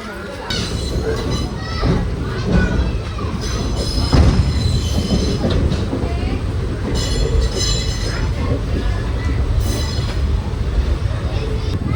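A train rumbles steadily through Pamban railway station on the Madurai–Rameswaram line, just after crossing Pamban Bridge, wheels squealing in high bursts, with voices and children faintly in the background.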